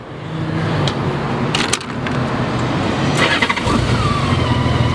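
A 2004 Honda Goldwing GL1800 trike with a Champion trike kit starts up. The starter cranks briefly, then the engine catches and settles into a loud, steady idle close by.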